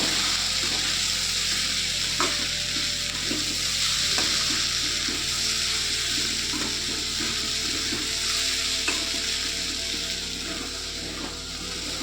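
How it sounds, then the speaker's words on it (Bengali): Grated ginger sizzles in a hot pan while being stirred, a continuous frying hiss with intermittent scraping strokes and small clicks of the utensil, steady and close with no voices. "আদাটা একটু নেড়ে নেব।"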